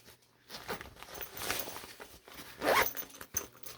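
A zipper on a cosmetic bag pocket is pulled open in a quick rasping run, close and fairly loud, with some soft handling rustle of fabric around it.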